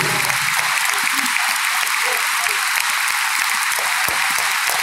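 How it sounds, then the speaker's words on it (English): Large stadium crowd delivering a steady, dense round of applause in tribute to the Hillsborough families, continuous and loud throughout with no pauses. "as we begin a period of applause"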